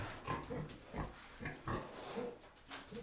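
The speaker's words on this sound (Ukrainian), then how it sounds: "такі поросятки." Pigs grunting on a small farm, young piglets around nine months old, with several short, irregular grunts and snorts close by, rising and falling in bursts over a low background.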